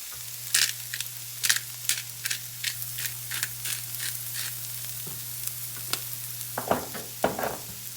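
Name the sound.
vegetables frying in a pan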